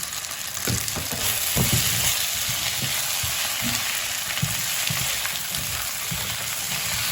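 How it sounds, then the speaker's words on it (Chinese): Potatoes sizzle and crackle in a hot wok as a spatula scrapes and tosses them, a continuous loud frying hiss with rhythmic clanks of stirring close up. "充分的翻炒。"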